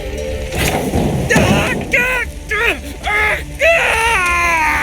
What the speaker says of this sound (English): My ears wither from the screams.